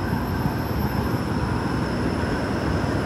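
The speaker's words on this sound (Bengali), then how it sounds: "আমাদের বিশাল একটা ট্রাম" A large Toronto streetcar tram passing on a city street, a steady continuous rumble and rolling rail noise that stays loud and even throughout, with no voices.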